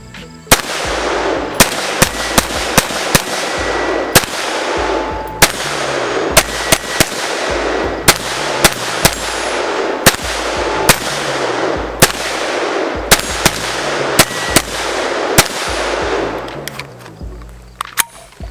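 Kel-Tec PMR30 pistol firing a long, steady string of sharp, loud shots at an even rhythm, about a dozen reports close by with brief echoing tails.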